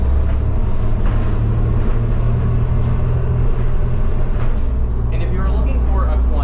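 Loud, continuous low rumble and rattling vibration of a Grand River Transit Route 27 city bus from inside the cabin, heavy engine drone throughout with faint voices underneath.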